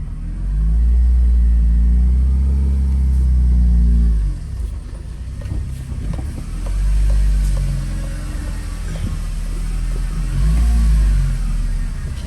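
An Acura RSX with a K24 engine swap drives at night, its engine a loud low rumble that surges and eases through several revving pulls as the car accelerates.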